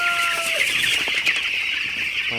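A dense chorus of high, shrill peeping from many young broiler chicks, continuous and close, with a brief low tone at the start.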